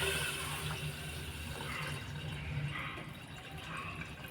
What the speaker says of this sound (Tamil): ஒரு கப்பு பருப்புக்கு 3 கிளாஸ் தண்ணி ஊற்றிக்கிங்க.